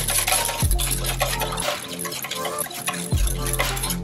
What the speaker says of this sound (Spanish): agregamos la levadura y el azúcar, lo batimos ligeramente